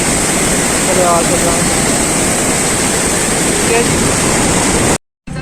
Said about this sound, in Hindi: और यहाँ पे जो है ना ये पानी बह रहा है